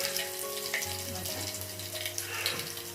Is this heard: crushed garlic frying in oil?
yes